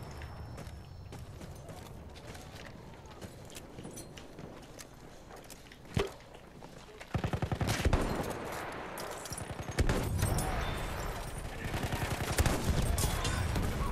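Battlefield 1 gunfire rattles without a break: a steady patter of distant shots, one sharp crack near the middle, then louder, denser automatic bursts. Faint game clatter sits under the shooting.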